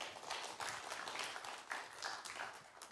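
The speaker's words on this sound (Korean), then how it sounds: "박수 한 번 더 부탁드립니다." Audience applause at a 6.15 Joint Declaration anniversary event in Incheon, a steady moderate wash of clapping from a crowd that continues for about three seconds with no talk over it.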